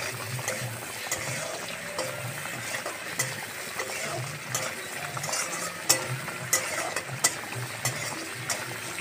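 Tomato masala with salt fries steadily in a pan with a continuous close sizzle, broken by occasional soft scrapes and clicks of stirring.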